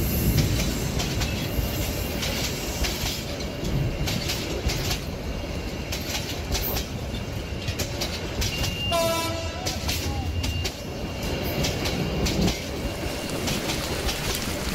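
Cartoon train sound effect of a train running, a loud steady rumble and rattle of wheels on rails throughout, with a brief horn blast near the middle, no voices.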